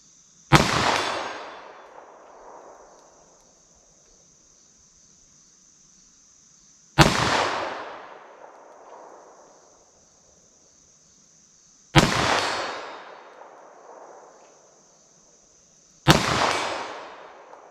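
Four loud .327 Federal Magnum revolver shots from a 1.875 inch barrel firing Sierra JHC handloads, each a sharp crack with a long rolling echo, spaced several seconds apart outdoors.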